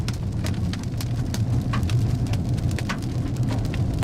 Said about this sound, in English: A lot of hail on the road here.